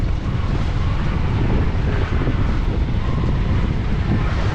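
A sailboat moving through waves on Bras d'Or Lakes, with steady loud wind buffeting the microphone over a continuous wash of water and hull noise, and no clear voices.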